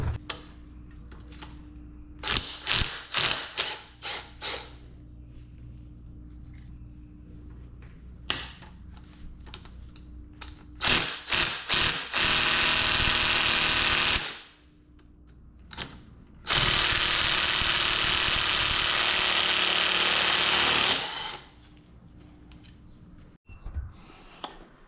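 A ratchet and tools working screws out of a 1991 Kawasaki KX250 dirt bike engine during teardown, with bursts of rapid clicking and rattling, then long loud sustained whirring passages, close and loud.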